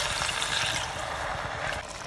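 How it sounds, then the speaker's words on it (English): Water, a measured 250 milliliters, poured into a chicken potjie pot, a steady close trickling splash that runs continuously for about two seconds with no talk. "We can now add the 250 milliliters of water."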